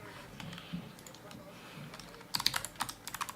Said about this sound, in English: I'm clicking on a bunch of things.